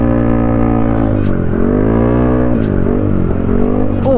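A Yamaha Aerox scooter fitted with a K Race Samlong Thailook aftermarket exhaust revs up close and loud, its engine pitch climbing and dipping in several throttle pulls over a steady idle drone, with no talking.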